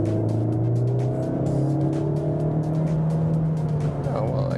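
Hot hatch engine in sport mode, heard from the cabin while driving through a tunnel, with a steady mid-pitched drone that rises gradually in pitch under acceleration.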